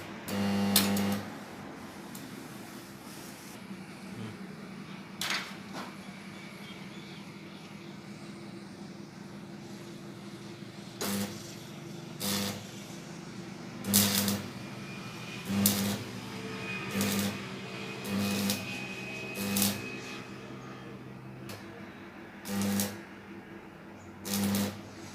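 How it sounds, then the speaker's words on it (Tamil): Intermittent welding on a joint, heard as a steady low buzzing hum with repeated short, bright crackling bursts at irregular intervals, close by and moderately loud. "இப்போ பாருங்கள், நான் அதை ஃபுல்லாகவே வெல்ட் அடித்து காட்டுறேன்"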